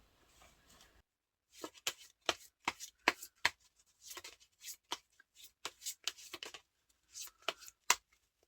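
Tarot cards are shuffled and drawn from a deck, a series of sharp, close papery slaps and riffles in irregular bursts after a brief quiet start, no talking.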